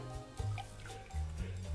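Vanilla syrup poured into a tiki-style rum cocktail: a brief, soft, close trickle with a few drips, heard alone in a quiet room.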